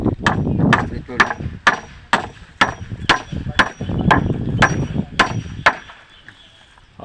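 A nail is driven into wood at a house build, about a dozen sharp hammer blows landing in an uneven steady rhythm, close and clear, with low background noise between strikes.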